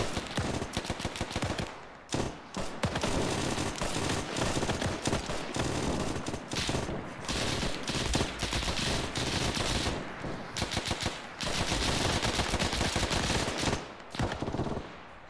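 Video game gunfire in a World War era German patrol mission: loud bursts of rapid machine-gun fire and single shots, broken by short pauses, close and dominant throughout.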